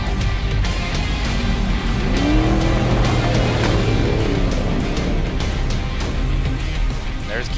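Herbst Motorsports car 19, a T1 off-road race car, runs loud and continuous at King of the Hammers, its engine roar steady throughout with a brief rising whine mid-clip and a faint voice in the background.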